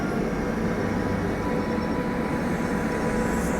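Passenger train with a wagon HC locomotive on the Hazrat Nizamuddin–Hubballi superfast route rolling past at close range, a dense, unbroken rumble and rattle of wheels and carriages that holds steady throughout.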